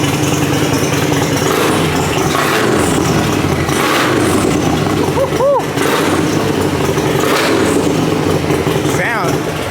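A Harley motorcycle engine runs loud and steady close by, rumbling and revving in short surges, with people talking over it.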